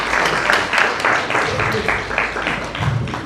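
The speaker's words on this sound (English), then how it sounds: "Give him a big applause" Audience applause at a live stage event with actor Sonu Sood at a temple venue, a sustained wash of clapping from a crowd, steady and fairly loud for a few seconds with faint voices mixed in.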